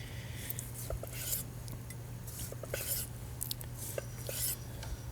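Knife slicing through cooked top sirloin steak on a board, a few faint, short scraping and tapping strokes at an unhurried pace, close and quiet over a low steady hum.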